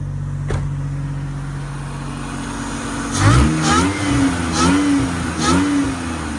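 A Nissan Xterra engine idles with a low steady hum, then revs up sharply several times in quick succession, each rise and fall loud and close.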